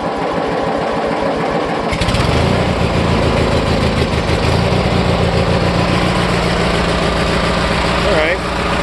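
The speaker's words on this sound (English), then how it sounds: "Pull the choke out. Should fire pretty quickly, I would think," A Deutz-Allis tractor engine cold-started with the choke pulled, cranking briefly before catching and settling into a loud, steady, rhythmic idle close by, with a voice talking over it.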